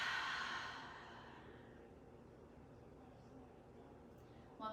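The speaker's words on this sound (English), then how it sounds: "Exhaling out through the mouth" One long, deep exhale through the mouth during a calm yoga tree pose, close and breathy, tapering off into quiet room tone.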